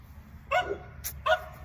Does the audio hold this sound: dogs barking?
yes